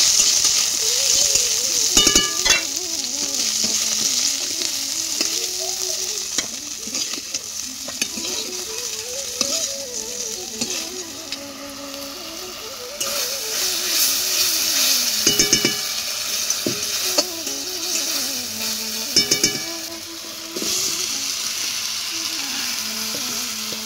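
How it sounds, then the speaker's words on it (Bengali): Vegetable stalks fry in hot oil in a pan, giving a loud continuous sizzle with repeated scraping and stirring of a utensil against the metal and a few sharp clinks. "শুধু ডাঁটাটা ভাজছি"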